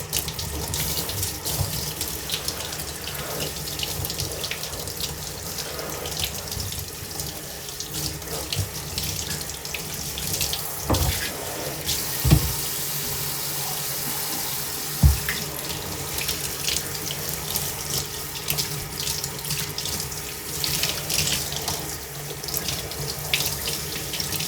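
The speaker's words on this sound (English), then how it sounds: "Just run them under a sink." A sink tap runs steadily over a pair of Gore-tex hiking boots to wet them before cleaning, a constant close hiss of flowing water with a couple of brief knocks.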